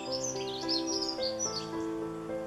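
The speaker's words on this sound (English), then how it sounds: "Birds are singing." Birds sing on a cool Christmas morning with ground frost, several clear chirps and whistles ringing out over a steady tonal hum in the background.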